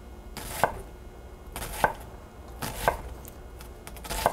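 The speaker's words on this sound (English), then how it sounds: "Then go down through the onion." A knife chops through green onion on a cutting board in four crisp, evenly spaced strikes, close and fairly quiet, with no talking.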